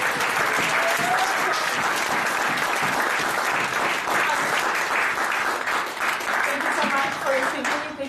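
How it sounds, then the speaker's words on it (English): Loud, sustained applause from an audience at a Toastmasters club's 200th meeting, welcoming a keynote speaker to the stage, steady and dense throughout with a faint voice or two underneath. "Please welcome with a thunderous applause, Madam Andreea Zoia"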